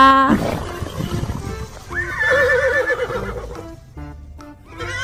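A horse whinnies loudly and close, a long wavering neigh in the middle with snorting and hoof-like knocks around it, followed by a few shorter calls.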